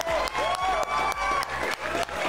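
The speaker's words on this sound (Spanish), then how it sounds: "¡Que se oigan los aplausos!" Applause from an event crowd at a charity gathering, steady clapping with some cheering, moderately loud and unbroken with no talk over it.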